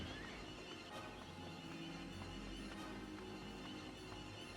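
Horses neigh and whinny amid clopping hooves in the video game Drakengard, layered into a dense, continuous wash of game sound at steady loudness.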